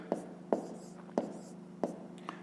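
Pen strokes on paper while a fifth-grade math exercise is worked, several short scratchy taps spaced about half a second apart over a low steady hum, close and fairly quiet.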